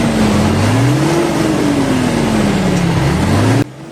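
An Isuzu 6HK1 diesel truck engine with low power and smoky exhaust idles steadily and close by, its low rumble rising and falling slightly in pitch before cutting off abruptly near the end.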